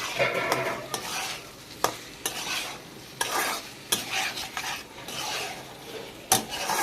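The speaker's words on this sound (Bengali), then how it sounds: "দেখুন খুব সুন্দর করে কষে নিচ্ছি" Raw banana sautéing with black pepper in a pan, a spoon scraping and stirring in repeated strokes over a constant sizzle; close and fairly loud, no voices.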